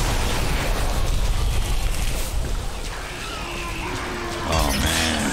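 Heavy shotgun blasts from the video game Bulletstorm boom out loud and close, amid crashing impacts and debris, then ease into a calmer stretch before a final burst of noise.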